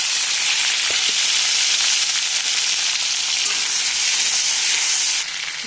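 Chopped tomato hits hot oil with cumin already fried in the pan, giving a loud, dense, continuous sizzle that hisses steadily nearby and dips slightly near the end.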